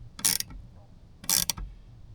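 A bolt with lock washers being tightened on an RV solar panel mount, heard as two short, close bursts of ratcheting mechanical clicks separated by a pause, with no one talking.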